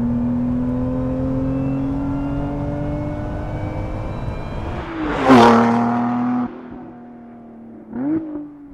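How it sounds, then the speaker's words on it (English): A Lotus Emira V6 with a six-speed manual drives along, its engine and exhaust holding a steady drone, then surging in a loud rev before dropping back, with a second brief blip near the end. "we do have the exhaust here that will change tone based on our drive modes"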